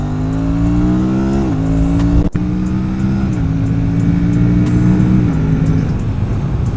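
Aprilia RS 457 motorcycle engine holding a loud, steady high-rev drone, its pitch stepping down through several downshifts with a brief cut in the middle, heard up close with no talking.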